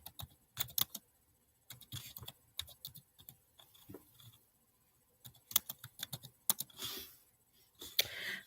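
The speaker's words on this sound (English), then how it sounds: "I was typing." Typing on a computer keyboard at close range, bursts of quick clicking keystrokes separated by short pauses, fairly quiet, with a louder flurry near the end and no talk.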